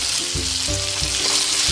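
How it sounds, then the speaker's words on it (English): Smoked sausage cut on the bias browns in a pan with fresh garlic and ginger, giving a loud, steady sizzle that runs unbroken from start to end. "Take your favorite smoked sausage, and you just cut them on a bias, and you just brown them up."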